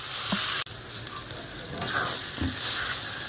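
Vegetarian banana flower ghonto, sweetened with jaggery, being stirred and dried in a pan, giving a dense close sizzle with soft scrapes of the spatula and a brief cut in the sound.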